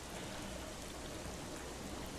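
Steady, soft rain hisses without a break in The Legend of Zelda: The Wind Waker, a faint even patter with no other sounds.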